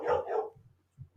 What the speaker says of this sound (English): I've got the dogs barking